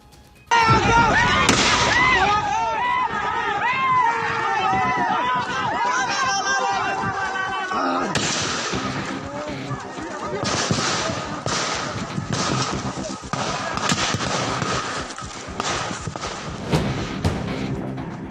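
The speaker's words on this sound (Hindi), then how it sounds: "गोलियों की तड़तड़ाहट बता रही है कि भिड़ंत कितनी भयावह थी।" Gunfire rattles amid a clash at the Assam–Meghalaya border, loud sharp bursts and thuds over a constant roaring crowd, with shouting voices mixed throughout.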